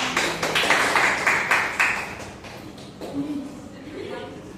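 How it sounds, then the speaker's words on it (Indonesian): A small classroom group claps in a brief burst of rhythmic applause, fairly close, that tapers off after a couple of seconds into quieter room sound and talk. "ya beri tepuk tangan untuk teman-teman kalian"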